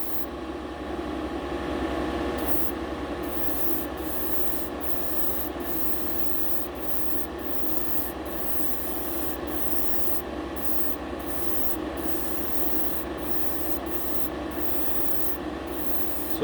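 Light coats of tint spray onto the window glass of a scale model car, a soft, continuous hiss with short regular breaks, close and steady with no talk.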